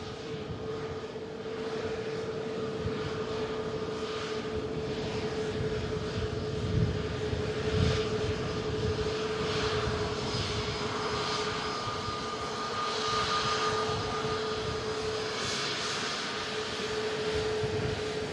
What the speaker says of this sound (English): Nice A320 Neo arrival there.